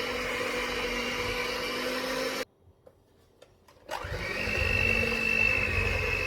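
Electric hand mixer beating cake batter, a steady loud whir that cuts out for about a second and a half, then restarts with a rising whine and continues close and strong.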